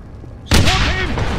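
A grenade blast in Wolfenstein hits suddenly and loud, a deep booming explosion followed by a rumbling tail with ringing debris and shouting voices mixed in.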